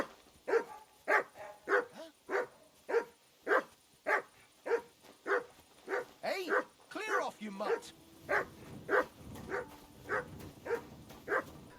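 A trained dog barking in the medieval game Kingdom Come: Deliverance II, a steady series of sharp, evenly spaced barks near at hand, followed by a few whines and yips, with brief speech in the background.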